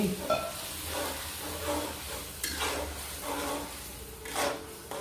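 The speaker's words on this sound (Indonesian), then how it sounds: "Bumbu yang sudah di blender tadi. Nah, ditumis seperti ini." Blended curry spice paste for chicken curry sautéing in a pan, a soft steady sizzle with a spoon scraping and stirring in repeated strokes, close and moderately quiet.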